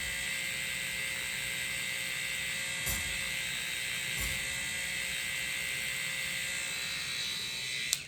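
A tattoo machine needle works steadily on a rabbit's ear, giving off a continuous high, thin electric buzz at a constant low level, with two faint clicks partway through and no talking.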